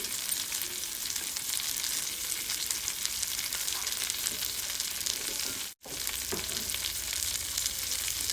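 Fish deep-fries in hot oil with a dense, continuous crackling sizzle, close and steady, cut by one brief gap near the end, with no speech.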